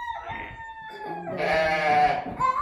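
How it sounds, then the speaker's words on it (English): A goat in a petting zoo pen calls out with a long, wavering bleat that rises in strength partway through, over faint farmyard background. "And one goat."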